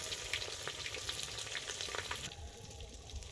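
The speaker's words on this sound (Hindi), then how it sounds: "ये प्याज डाला गया।" Onion frying in a clay pot with mustard oil spices and bay leaf, a dense continuous crackling sizzle with stirring, heard close and alone without talk.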